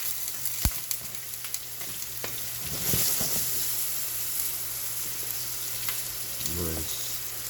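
Food sizzles and crackles in a pan over high heat, a steady frying hiss with occasional clinks of stirring, moderately close and without speech.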